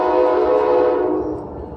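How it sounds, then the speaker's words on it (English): A train horn blares loud and sustained nearby, a rich, steady chord that fades gradually as the train passes, with a low rumble underneath and no talking. "Hopefully you can hear me with the train in the background."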